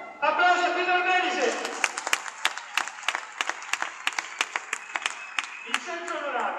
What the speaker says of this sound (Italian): Applausi a Pietro Armeni.